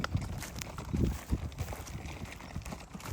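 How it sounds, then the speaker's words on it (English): A horse skidding logs walks with soft irregular hoof thuds on the ground, faint and close, with dragging and rustling noises mixed in and no talk. "That's how we teach that horse to log"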